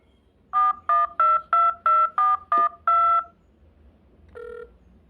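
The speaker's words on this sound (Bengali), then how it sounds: "রিসিভার তুলে এমার্জেন্সির ফোন নাম্বারে ডায়াল করলাম।" Emergency number being dialed on a telephone: eight crisp touch-tone beeps in a quick, steady rhythm, the last held slightly longer, followed after a pause by a single fainter tone, close and clear with no voices.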